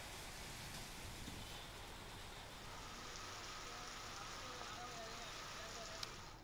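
Heavy monsoon rain falling steadily in Bhopal, India, a dense continuous hiss of downpour on surfaces with no break, some faint background sounds underneath.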